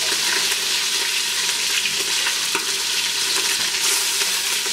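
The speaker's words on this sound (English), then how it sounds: "we're going to put our brulee onions in" Brûléed onions land in a pot holding browned short ribs, giving a loud, steady sizzle with stirring scrapes throughout.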